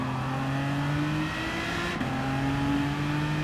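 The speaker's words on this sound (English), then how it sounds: "Listen to the throttle." A race car engine hums at steady throttle, its pitch easing then briefly dropping and rising again, heard continuously from inside the car.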